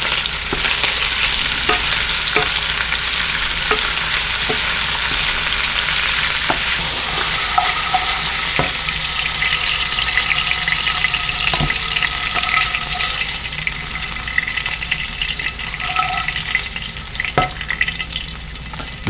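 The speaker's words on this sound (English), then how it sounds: "we're just going to brown this a little bit" Sausage browning in a pan gives a steady, loud sizzle and crackle of frying fat, with occasional sharp pops and stirring scrapes throughout.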